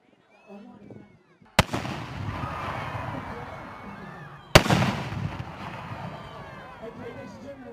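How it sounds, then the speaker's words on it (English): Bonfire Night fireworks go off outdoors in two sharp, loud bangs a few seconds apart, each followed by rumbling crackle and wind noise, with faint voices before the first blast. "round 2 of the fireworks. I hope this is as good as the first one."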